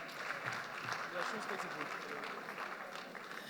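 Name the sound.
audience applause for the band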